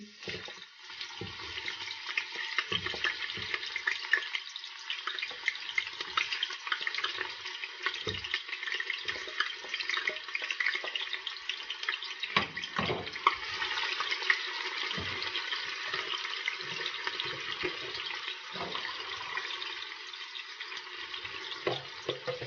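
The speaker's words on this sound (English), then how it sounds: "our oil is hot now. I'm going to be adding my onions to it" Onions fry in hot oil as pasta with minced meat is made, a steady, watery sizzle with scattered crackles and low thumps, moderately loud and with no one speaking.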